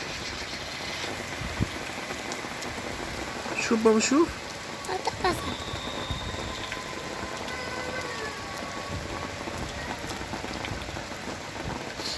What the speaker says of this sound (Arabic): مطر كبسات